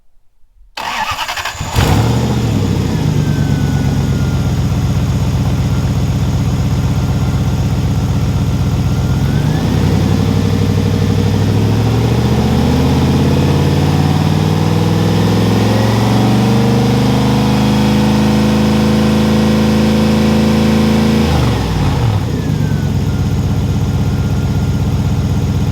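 A 1963 Cadillac Coupe DeVille's engine cranks and catches, then settles into a loud, steady idle with a smooth low rumble and shifting tones that continues uninterrupted for over twenty seconds.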